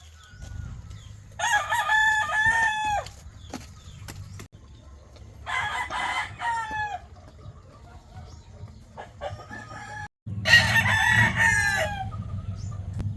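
Several roosters crow in turn, loud and near, with chickens clucking softly in between and low background noise.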